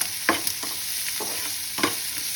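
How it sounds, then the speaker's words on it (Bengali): Chopped chilli, onion, ginger, garlic and spices frying for a bhetki fish chop filling, a steady soft sizzle with a few scraping spoon strokes stirring the pan. "দিয়ে এগুলোকে বেশ লাল লাল করে ভেজে নিতে হবে"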